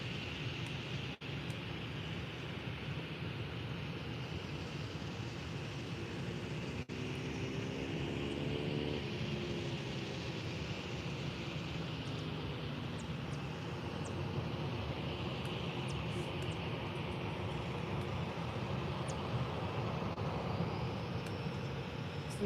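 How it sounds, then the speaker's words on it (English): An ASL Airlines plane taxis toward the runway at Faro Airport in the early morning, a faint, steady distant engine hum and whine over outdoor ambience, with a brief tonal rise partway through and no voices. "So now ASL Airlines getting ready to take off. Well, taxiing to the runway and then getting ready to take off."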